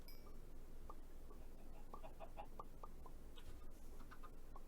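Chickens in Minecraft Sky Factory 3 give a few quiet, short clucks, scattered and soft over a faint steady background hiss.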